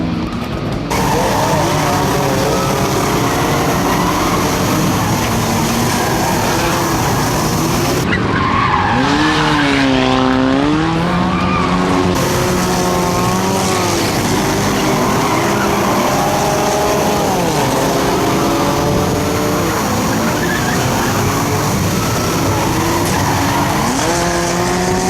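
Race cars in an enduro racing video game roar and skid, with long tire squeals sweeping up and down over a continuous loud engine drone, heavy and close throughout.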